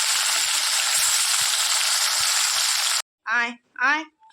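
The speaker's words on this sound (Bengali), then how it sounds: "কড়াইতে তেল গরম হয়ে গেছে, চলো মাছগুলো দিয়ে দিই।" Fish fries in hot oil in a wok with a loud, dense, continuous sizzle that stops abruptly, after which a voice speaks briefly.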